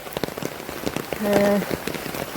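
Steady rain patters on a surface during a heavy downpour in Jaffna, a continuous close hiss with a short faint tonal hum partway through and no clear talk.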